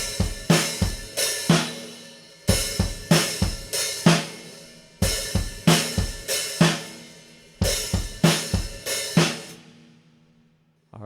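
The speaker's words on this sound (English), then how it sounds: "So we have hi-hat kick, kick, and then hi-hat with the snare, and then kick by itself." Drum kit playing a simple beat of hi-hat, kick and snare, four repeated bars of sharp close hits that ring out and fade to quiet at the end, no voices.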